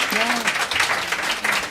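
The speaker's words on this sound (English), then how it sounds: "So a round of applause, quick, guys." Applause from a live audience at a podcast recording, a steady broadband patter of clapping running the full length, with a brief voice or whistle-like tone near the start.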